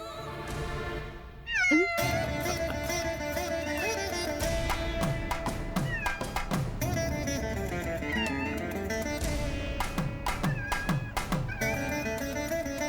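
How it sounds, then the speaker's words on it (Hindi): A cat meowing repeatedly in a series of drawn-out, rising and falling cries, close and fairly clear over a faint indoor background, with no talk. "बिल्ली ने रास्ता काट दिया।"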